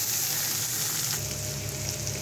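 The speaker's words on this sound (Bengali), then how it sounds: "কালো জিরে, লঙ্কা দিয়ে ভাজা ভাজা করছি।" Black cumin, chili and crushed ginger-garlic fry in oil, producing a loud, dense, continuous sizzle close up that swells slightly partway through, with no voices.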